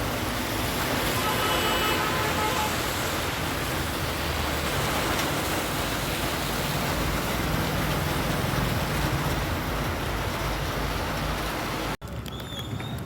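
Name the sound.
heavy rain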